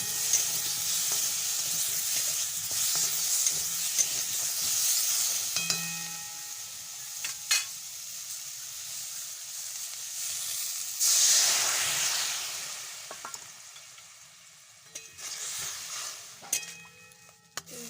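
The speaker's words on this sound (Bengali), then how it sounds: "জল দিয়ে দিলাম এবার আমটাকে সেদ্ধ করে নেবো" Water hits fried mango pieces in a hot pan while making mango chutney, a loud rushing sizzle and steam hiss that rises sharply midway and then settles to a softer crackle, with occasional utensil knocks.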